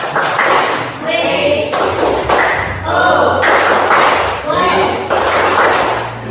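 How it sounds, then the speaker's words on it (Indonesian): A school class doing a rhythmic clapping cheer, sharp group claps in short bursts repeated across several beats, loud and close, mixed with voices chanting along. "Oke, kita kasih semangat dulu. Tepuk wow."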